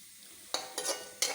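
Grated coconut and sesame seeds roasting in ghee for a rambutan payasam, a soft sizzle with three sharp stirring scrapes, close and quiet with no voices.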